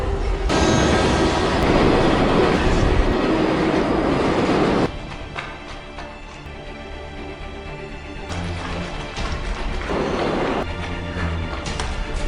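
A train rumbles past loud and close, broadband roar with clattering, dropping somewhat midway as cars continue rolling by.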